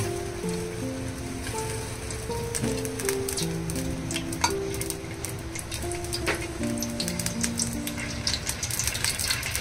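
Oil crackling and sizzling in a pan for frying masala peanuts, a steady dense patter of small pops that runs without a break, close and fairly loud, with no talking.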